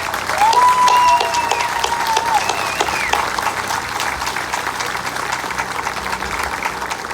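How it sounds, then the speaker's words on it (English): A rally crowd applauds the mayor at an outdoor law-enforcement support event, dense clapping loudest at the start and tapering gradually over several seconds, with a faint whistle or cheer near the beginning. "give a round of applause to the mayor for his service to the Navy"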